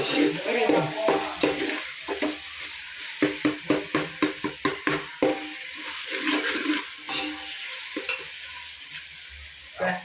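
Chicken frying in a large biryani pot with too little oil and sticking to the bottom, heard as a sizzle broken by bursts of rhythmic scraping stir strokes.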